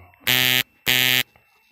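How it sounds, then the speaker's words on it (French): An electrical tester checking a plug gives two loud, harsh buzzing beeps, each about a third of a second long with a short gap between them, close and alone. "Ça bip, ça veut dire que ça fonctionne."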